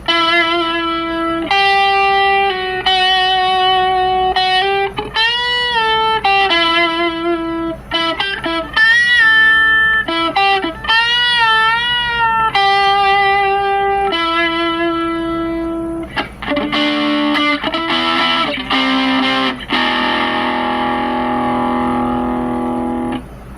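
Heavily distorted electric guitar, a Jazzmaster-style with P90 pickups, playing sustained notes and bends, loud and saturated, ending in a thick buzzing chord that rings out.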